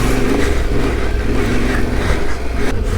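Yamaha Tenere adventure motorcycle ridden off-road on a trail, engine revving loudly and continuously close by with rough, fluctuating throttle.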